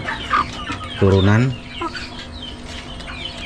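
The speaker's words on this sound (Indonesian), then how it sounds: "Ini yang ayam impor" Imported-breed hens cluck close by in a burst of loud, rising calls, with softer clucks before and after and brief speech in between.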